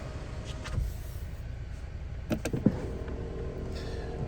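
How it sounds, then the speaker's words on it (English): A Volvo S90 T6 Inscription's power window lowers with a soft motor whir inside the car, framed by faint clicks and a small thump near the end. "if you want to lower your window, that's also"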